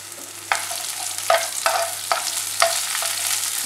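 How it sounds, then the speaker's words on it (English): Long cut onions fry and sizzle in a pan with peppercorns and poppy seeds for a Chettinad mushroom pepper gravy, with a steady hiss broken by several sharp stirring scrapes of a spoon against the pan. "Next I'm adding onions, long cut onions."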